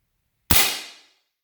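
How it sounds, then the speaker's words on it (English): A single sharp BB gun shot fires a calibration round into ballistic gel, a close loud crack that rings out briefly and fades within about half a second, alone in silence. "This is gonna be our calibration shot with a BB."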